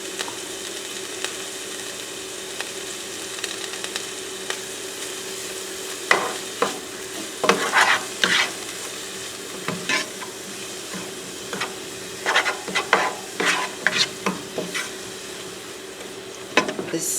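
Garlic, spinach and tomatoes cook down in a pan with a low, steady sizzle, broken by clusters of sharp scraping and stirring clicks from a utensil against the pan.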